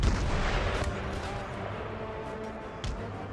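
Musket volleys and artillery rumble across an Empire Total War battlefield, with a dense, continuous crackle of distant gunfire and a few sharper cracks and thumps. A voice talks over the battle noise.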